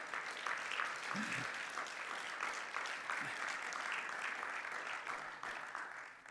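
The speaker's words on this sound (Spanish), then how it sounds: "Dale un fuerte aplauso al Señor." Congregation applause in a church, a broad, continuous wash of clapping from many people, fairly distant and quiet, with a couple of faint voices calling out underneath.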